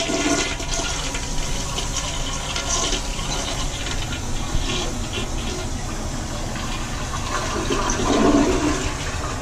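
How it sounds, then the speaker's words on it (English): A toilet flushing in a bathroom at a place called Horner Express, a loud, steady rush and hiss of water lasting several seconds, swelling slightly toward the end, with no voices. "flushed the toilet."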